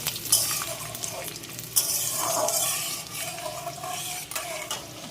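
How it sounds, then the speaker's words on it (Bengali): Peanuts fry in a pan, moderately loud, with intermittent scraping and stirring clatter of a spoon against metal over a continuous soft sizzle. "চিড়ের পোলাও করবো, তাই বাদামটা ভাজছি।"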